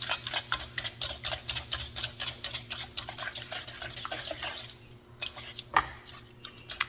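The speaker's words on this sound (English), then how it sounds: "I'm going to take the whisk, kind of whisk it together." A whisk beats banana batter in a bowl with quick, evenly spaced clinking strokes that slow and thin out into a few scattered taps near the end.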